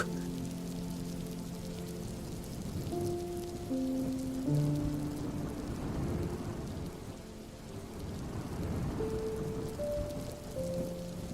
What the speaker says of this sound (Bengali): এতদিন পরে বৃষ্টিটা একটু কমেছে